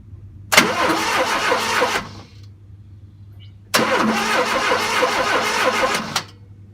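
A 1971 Fiat 850 SC engine cranks in two separate bursts of about a second and a half and two and a half seconds, the starter whirring loudly without the engine catching, with a quiet pause between.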